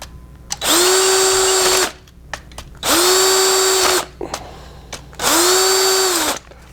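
A power drill tightens the terminals on a new Allen Bradley IEC contactor and overload motor starter. Three loud, steady whirring bursts of about a second each, separated by short pauses, with no talking.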